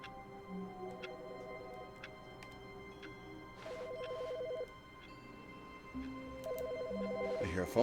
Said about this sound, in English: I hear a phone going off.